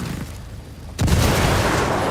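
A frag grenade goes off in Ghost Recon Wildlands, a single sudden deep boom after about a second of quiet game ambience, loud and close, followed by a sustained rumbling roar and crackle.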